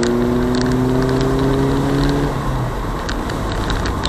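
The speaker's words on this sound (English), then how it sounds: "the engine seems to rev even more" A Mazda MX5 engine revs steadily from inside the car in sixth gear, a loud, sustained mid-pitched drone with a rising tone that drops away partway through, no voices over it.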